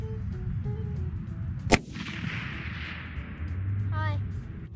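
One loud, sharp shot from a Winchester Model 70 extreme weather stainless .300 Win Mag rifle at a range, followed by a fading rumble as faint voices murmur in the background.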